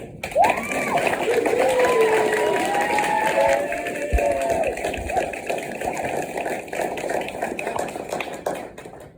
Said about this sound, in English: Clap for them one more time.